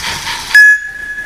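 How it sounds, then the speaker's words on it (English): A toy train in a children's television show sets off with a loud, steady whistle-like tone lasting about a quarter second, over soft rumbling movement sounds before and after. "The train can go. Off it goes."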